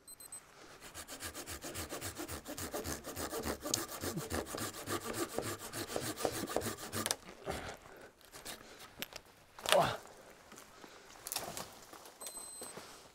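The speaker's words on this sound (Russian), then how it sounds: "Давайте посмотрим, насколько быстро я его перепилю." A Fiskars folding garden saw cuts through a tree trunk about 10 cm thick: rapid, steady rasping strokes run loud and close for about seven seconds, then give way to scattered creaks, a sharp crack and rustling.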